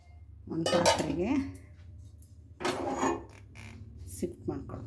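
Cooked food is moved into a vessel in a home kitchen, with a few metal clinks and scrapes of a utensil against the pots. A voice talks underneath in short bursts.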